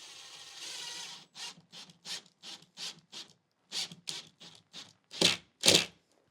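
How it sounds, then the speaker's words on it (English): A screw is driven into a wall at the top of a TV mount, making a series of short, sharp rasping bursts with pauses between them, louder near the end, with no talking. "just going to put a screw in the top to secure it"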